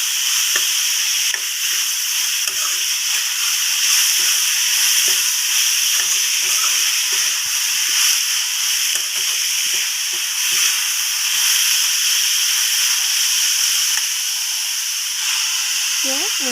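Ginger and garlic fry in a pan for an Assamese masoor dal with banana flower, giving a steady loud sizzle and hiss with frequent scraping stirs of a spatula throughout.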